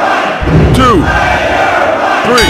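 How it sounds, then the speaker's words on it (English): A loud, dense arena crowd roars and chants throughout a match in the Dreamcast wrestling game WWF Attitude, with a voice counting over the din. "This crowd is deafening!"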